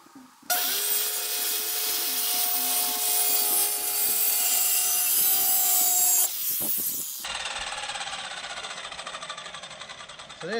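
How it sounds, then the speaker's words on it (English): A bandsaw cuts through wood with a loud, steady whine that holds for several seconds, then drops to a lower, rougher hum as the cut changes. "Alright, so I'm going to use this bandsaw."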